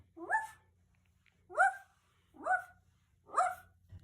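A person imitates a dog, giving four separate yapping barks at a steady spacing, each short and fairly close, with a low hum underneath.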